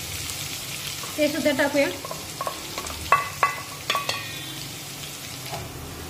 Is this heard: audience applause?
no